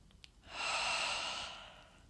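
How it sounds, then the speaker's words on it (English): A long, deep exhale during a gentle energy-medicine yoga routine, a single breathy rush that swells, holds and fades, preceded by a few faint clicks. "3 breaths, exhaling out."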